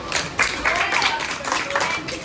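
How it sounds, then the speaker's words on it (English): Students clap together in a classroom, a brief loose burst of applause mixed with voices and room noise. "Y'all please give her a clap."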